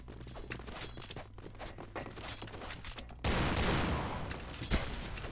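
Gunfire in the shooter game Point Blank, including sniper rifle shots: steady distant shooting, then a sudden loud burst and a sharp crack a moment later.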